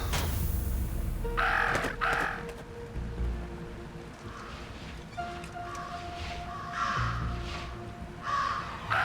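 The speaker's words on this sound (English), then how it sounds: "Talk about a murder of crows." A murder of crows caws harshly and repeatedly in Jenny LeClue, loud overlapping calls over a rustling, noisy outdoor bed, with a few quieter gaps between flurries.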